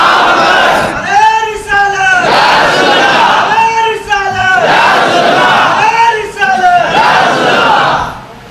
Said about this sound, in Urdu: ابھی بھائی نعرے رسالت کا نعرہ لگا ہے